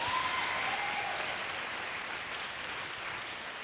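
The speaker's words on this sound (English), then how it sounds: "Give him another round of applause." Students and guests at a college fall dance showcase applaud a choreographer, a soft, steady patter of clapping heard from across the hall, with a faint whistle near the start.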